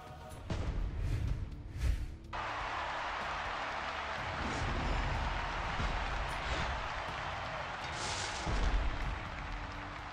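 Blast gems detonating in the WWE Champions mobile game, a dense rumbling run of explosive game effects with a sharp burst near the start and another swell toward the end, loud and continuous with no talk.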